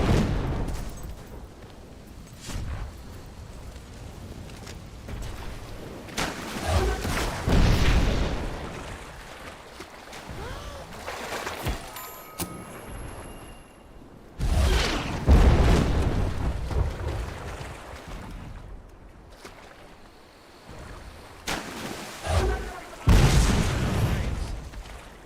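Mortar fire and explosions in Fable 3, with several booming bursts landing in loose clusters, some near and loud, others more distant, over ongoing battle noise.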